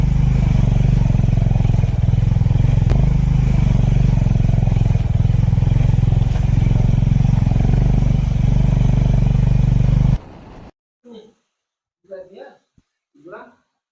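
Motorcycle ridden at night on a mountain road in Sikkim, its loud, close, steady engine rumble with wind for about ten seconds, then stopping abruptly, followed by a few brief voices.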